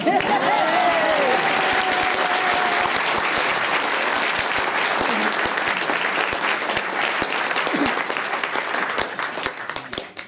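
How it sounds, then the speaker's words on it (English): Enthusiastic applause from a large audience at a Māori village fills the room, dense and steady throughout, with a few cheers and voices rising above the clapping. "You can clap now."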